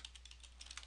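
Quick, light keystrokes on a computer keyboard, a short irregular burst of faint close clicks over a low steady hum.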